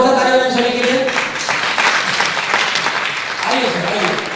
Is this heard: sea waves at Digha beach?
no